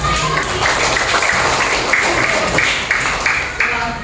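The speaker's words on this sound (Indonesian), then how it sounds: "tepuk tangan untuk kita" Students in a classroom applaud together, a loud, steady patter of close-by claps layered with chatter and voices for the whole stretch.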